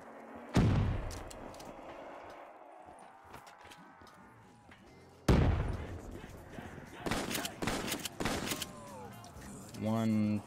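Gunfire and grenade blasts in Black Ops 3 custom zombies: two loud explosive bursts, then several rapid shots and a rattling burst near the end. Talk is heard between them.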